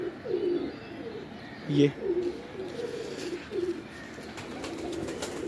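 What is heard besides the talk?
pigeon cooing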